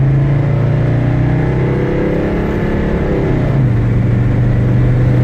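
A 1983 Mercedes-Benz 300D diesel engine hums steadily and close, its pitch sliding downward midway as the transmission makes its first shift, then settling into a lower, even drone.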